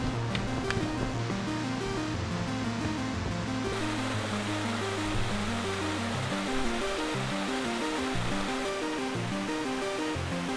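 Water rushes steadily over stones in the redwood forest of Muir Woods, a constant near broadband flow with no pauses and no voices.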